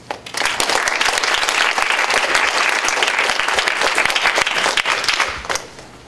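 An audience at an anthropology conference at American University breaks into steady, dense applause for a keynote speaker, building quickly and holding loud for several seconds before tapering off.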